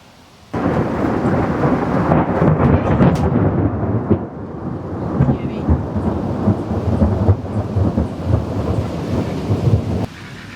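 A thunderstorm over farm country brings heavy rain, with a continuous loud wash of rainfall and rumbling thunder that starts abruptly and holds steady before cutting back to quieter ambience at the end.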